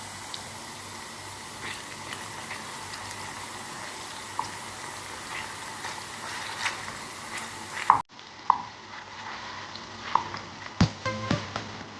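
Aloe vera fries in a pan until browning, producing a continuous soft sizzle with occasional pops and a few utensil taps near the end.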